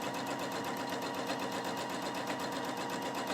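A Husqvarna Viking Opal 650 sewing machine stitches steadily during free motion quilting, its rapid needle chatter close and continuous with an even mechanical hum.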